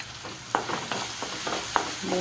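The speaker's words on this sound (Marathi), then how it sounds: "कांदा टॅमॅटो चांगला परतला की त्यामध्ये अर्धा चमचा मीठ" Onion and tomato fry in a pan with a steady soft sizzle, while a utensil stirs and scrapes in several distinct clinks and strokes, close up and moderately loud.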